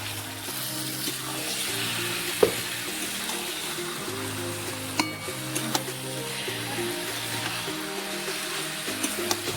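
Chicken sautéing in a pan with tomato, turmeric and salt, a soft steady sizzle broken by occasional scrapes and clinks of stirring, with background music and no speech.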